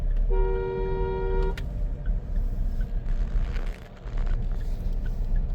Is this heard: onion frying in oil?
no